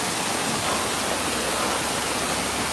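Waterfall, a dense, steady rushing roar of falling water filling the whole sound, constant and fairly loud with no voices.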